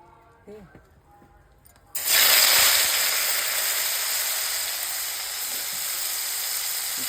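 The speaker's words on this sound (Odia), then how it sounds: "ଚିଙ୍ଗୁଡ଼ି ଶୁଖୁଆଟା ଫାଷ୍ଟ ଭଜା ହେବ।" Small dried shrimp hit hot oil in a pan after a cabbage curry, bursting into a loud, sudden sizzle partway through that settles into a steady, strong hiss, with faint kitchen sounds before it.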